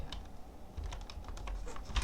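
Steady, close typing on a computer keyboard with bouncy, rebounding keys: a dense run of quick clicks and taps with no voice over it.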